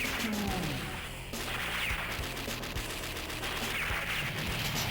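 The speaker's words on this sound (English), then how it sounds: "Heavy machine gun. Yeah, heavy machine guns, which you're going to end up getting more often than not." A heavy machine gun fires in the Neo-Geo arcade game Metal Slug 3. Dense rapid bursts crackle alongside explosions and game music, loud and continuous, with no voice over them.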